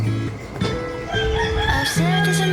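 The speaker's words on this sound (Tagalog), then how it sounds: "maririnig mo pa din yung mga talaok ng manok tapos yung ibon" A rooster crows nearby with a stretched, wavering call, other birds chirping faintly in the background, outdoors under a mango tree.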